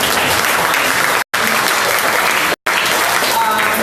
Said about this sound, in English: I'm going to say one more round of applause for you